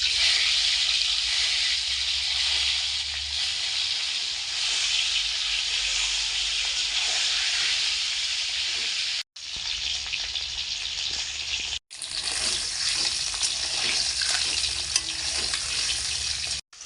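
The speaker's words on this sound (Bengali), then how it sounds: "এখন আমি সরিষার তেল দিয়ে দিচ্ছি। প্রথমে ডিম ভালো করে ভেজে নেব।" Duck eggs fry in hot mustard oil in a kadai, a loud, dense, continuous sizzle and crackle broken by two brief cuts.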